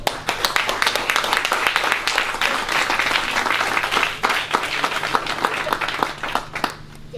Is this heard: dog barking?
no